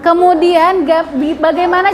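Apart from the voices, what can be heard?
No distinct noise like a dog, phone or traffic.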